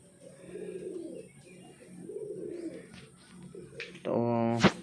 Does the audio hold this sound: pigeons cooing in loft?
yes